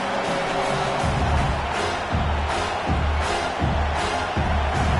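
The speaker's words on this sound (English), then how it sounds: "Here comes this home crowd as the defense tries to get off the field on third down" A home crowd roars at a football game, a broad sustained wall of cheering with rising swells, loud and without clear speech.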